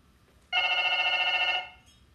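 A telephone rings once through a handset loudspeaker adapter, one loud, steady electronic trill lasting about a second before cutting off, heard close and alone in a quiet room.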